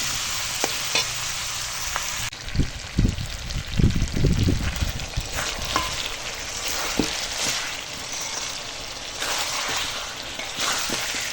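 Chicken with pointed gourd frying in oil in a pot over a wood fire, a steady close sizzle running throughout, with stirring scrapes and thumps clustered near the start.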